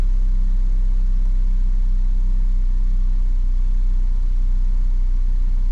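Steady car engine idle after a broken spark plug repair, running near 900 to 1,000 RPM with an even low hum and constant level, alone without voices.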